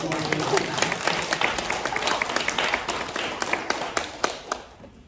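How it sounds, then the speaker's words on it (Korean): A church congregation gives a pastor another round of clapping after the service prayer, a modest, fairly sparse patter of hands with individual claps standing out, fading away after about four seconds. "박수 한번 더 보내주세요."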